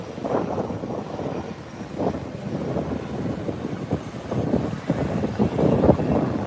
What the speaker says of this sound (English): the one that was waiting in the wing is now taxiing out for departure